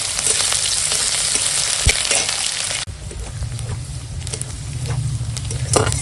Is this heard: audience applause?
no